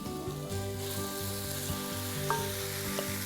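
Lamb meeting a hot pan of onions, garlic and ginger, producing a steady close sizzle with a couple of faint clinks, under a constant low hum and with no speech.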